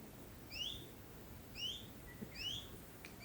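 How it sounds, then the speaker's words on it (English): Birds singing in the Chornobyl Exclusion Zone: repeated bright chirping calls, three or four short phrases over a quiet outdoor background, moderately distant. "The birds are singing."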